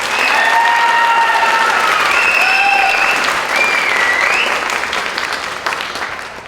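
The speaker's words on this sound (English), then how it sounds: "Let's give them another round of applause." Audience at a high school spring band concert claps in a loud, sustained burst of applause with some cheering and whistles, slowly tapering off toward the end.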